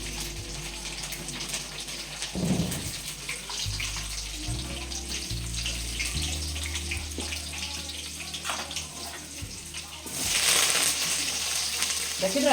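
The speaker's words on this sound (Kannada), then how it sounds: "ಎಣ್ಣೆ ಕಾದ್ಮೇಲೆ ಸ್ವಲ್ಪ ಸಾಸಿವೆ, ಒಣಮೆಣಸಿನ್ಕಾಯಿ, ಬೆಳ್ಳುಳ್ಳಿ ಸ್ವಲ್ಪ ಹಾಕ್ಬೇಕು" Mustard seeds, dried chilli and garlic frying in hot oil, a steady hissing sizzle running throughout with a brief louder burst near the end, close, alongside a low intermittent hum and no talking.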